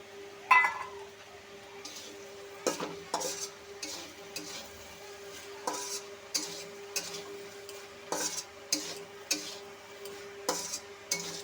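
Fried hilsa fish roe goes into boiled taro in a pan, giving a low sizzle under repeated, fairly regular scrapes and taps of a spoon stirring against the pan.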